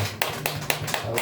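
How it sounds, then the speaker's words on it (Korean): Church congregation gives brief clapping to welcome a first-time visitor at a Sunday worship service: a few soft, evenly spaced claps, fairly faint and close. "우리 박수로"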